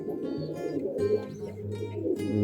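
Pigeons coo steadily inside a pigeon loft, low throaty rolling calls overlapping one another at close range, with faint rustling and no talk.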